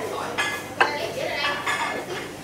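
Longan fruit tipped into a pot of sweet lotus seed and red date dessert soup, with clinks and scrapes of a utensil against the pot and a sharp knock partway through.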